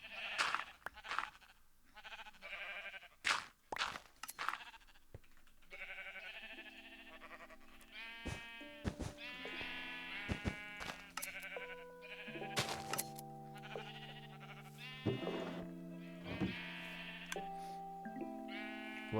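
Sheep in the Minecraft video game bleat repeatedly, several quavering calls overlapping in irregular bursts, moderately close and clear with no talk over them.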